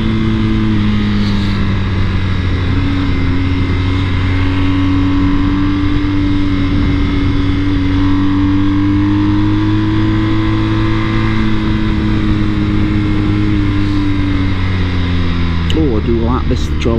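A BMW R1250 GSA motorcycle engine drones loudly and steadily, its pitch rising and falling gently as the rider accelerates, with heavy wind noise throughout and a brief revving flourish near the end.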